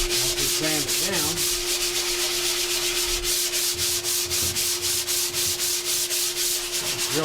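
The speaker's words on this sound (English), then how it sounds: "we go over top of the deck and clean it up, just with the sandpaper boards that we use here" Sandpaper boards rub back and forth across the deck of an engine block in a steady, rhythmic scraping, loud and close, with no talking.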